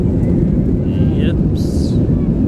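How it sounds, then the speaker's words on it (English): An Edelweiss Air charter airliner, fully booked and heavy, starting its takeoff roll from Zurich, with a loud, steady, broad engine roar that holds constant and includes a couple of brief whining tones. "We're gonna fly, we're gonna take off and rolling."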